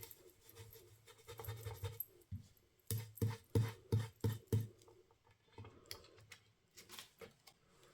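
A handmade craft piece is rubbed by hand in a quiet indoor setting. The sound is a series of soft, close scratching strokes, with a short rhythmic run of them in the middle of the clip.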